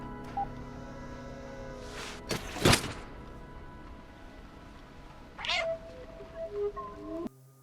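A cat meows in the video game Stray, giving a few distinct close calls spread across the clip against a quiet, steady game ambience, with a brief thump near the middle.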